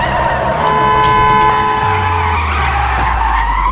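A car skids hard to a stop with a loud, sustained tire squeal, sliding and then settling as the engine rumbles low underneath. The sound is close and intense, with no one talking.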